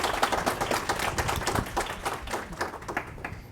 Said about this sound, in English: give a big round of applause for our wonderful panellists